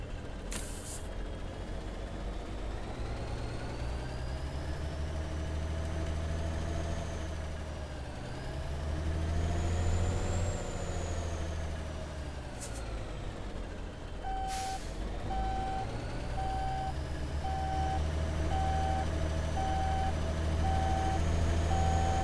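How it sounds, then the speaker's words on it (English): Heavy truck reversing toward a trailer in Alaskan Truck Simulator, with a steady diesel engine rumble, a run of evenly spaced reversing beeps in the second half and short air-brake hisses. "Now go back to the truck and hook up the highlighted trailer"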